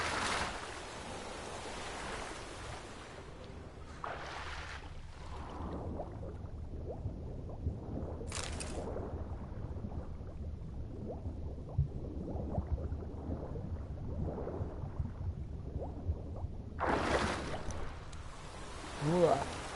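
A character wades and splashes through water in The Witcher 3 video game, with a steady low sloshing broken by a few brighter splashes, while a voice talks over it.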